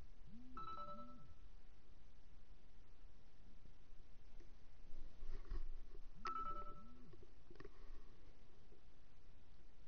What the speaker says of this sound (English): My bad, that's my phone.